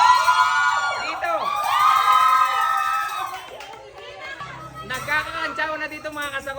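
A crowd at an eating contest yells, whoops and cheers for a contestant, with loud overlapping shouts swelling and falling in waves close by.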